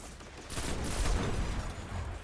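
Pulse rifle firing in the video game Destiny: rapid back-to-back bursts of shots blending into a continuous loud rattle for about two seconds, with no talk.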